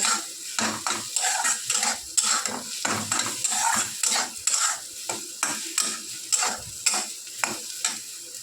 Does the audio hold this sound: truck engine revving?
no